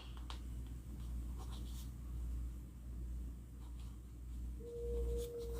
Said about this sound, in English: Let me write your name down real quick.